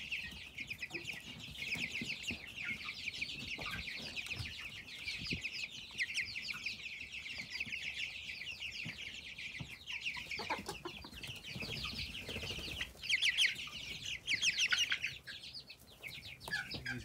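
Chickens clucking inside a chicken house, a continuous busy chorus of close and farther clucks and murmurs with occasional louder squawks, no talking.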